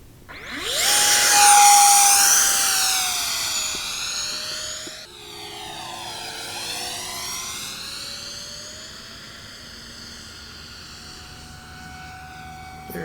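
A Xane MiG-17 50mm electric ducted fan RC jet whines past in flight, its high turbine-like pitch rising loud then sweeping and shifting as it passes and banks, staying fairly close with no talk.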